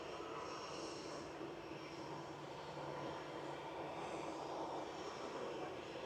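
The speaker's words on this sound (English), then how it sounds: "Sun Express touching down on 23 right" A Sun Express airliner touches down on runway 23 right at Manchester Airport, a steady, distant jet roar that stays level throughout with no speech.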